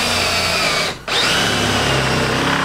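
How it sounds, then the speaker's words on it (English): A power drill bores holes through a 4x4 vehicle's hood, a loud steady whine that stops briefly and then starts again at full speed, close to the microphone. "Go ahead and put some holes in the hood."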